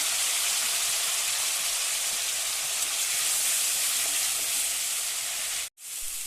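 Onion with ginger-garlic paste and chopped tomato sizzling loudly in a pan while being stirred, a steady bright hiss with a brief break near the end.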